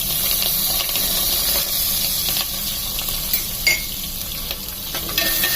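Onions and chilies with spices, bay leaf and cashews frying for a meal maker biryani, a steady loud sizzle and hiss with occasional stirring scrapes and small pops, no talk.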